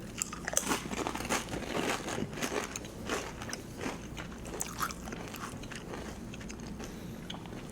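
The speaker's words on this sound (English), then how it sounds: "My apologies to anyone with misophonia for the on-mic chewing, but it's a taste test" Close, on-mic chewing and crunching while taste-testing hot sauce, with a steady run of wet bites and crunches over several seconds and no talking.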